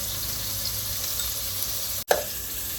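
Chopped onion and garlic fry in hot oil in a pan, giving a loud, steady, close sizzle. A brief clunk near the end interrupts it for a moment before the sizzling carries on.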